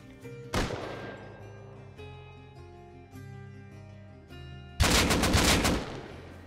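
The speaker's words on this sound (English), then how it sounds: "I started hearing my auto turret going off" An auto turret in the game Rust firing, with a single sharp shot followed by echoing tails, then a loud rapid burst of automatic fire near the end, heard over faint music.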